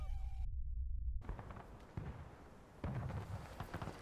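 Musket volleys crackle across a Civil War battlefield in the War of Rights video game, a loud close blast, a short silence, then scattered booming shots and distant rolling fire.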